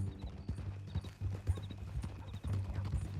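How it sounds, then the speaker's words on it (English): Horse hooves in Red Dead Redemption 2 clip-clop in a steady walking rhythm on hard ground, close and fairly clear, with faint tack jingles over a low background hum. "That new horse?"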